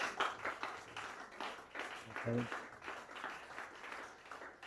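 A church congregation claps and applauds during a French-language sermon, a moderate, scattered patter of hands rising and falling beneath a voice speaking throughout.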